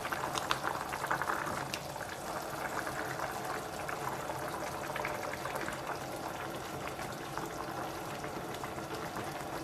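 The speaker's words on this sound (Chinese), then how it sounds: "盖上盖子，开中小火慢炖10分钟" Stew with flatbreads simmering in a covered pot over medium-low heat, a steady soft bubbling and burbling that stays even and fairly faint throughout.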